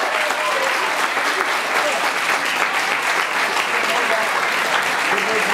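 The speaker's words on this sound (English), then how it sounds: "give a nice big round of applause for Aisling" Dense, sustained crowd applause fills the air at an outdoor agricultural show and gymkhana, steady and fairly loud throughout with many hands clapping together, a faint voice or two mixed in.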